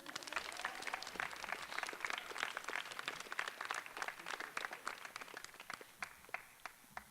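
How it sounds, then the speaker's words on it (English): Audience applause at a 2017 high school student race relations forum, a steady crowd of many clapping hands sustained through the clip, fairly distant and fading slightly toward the end. "Please clap."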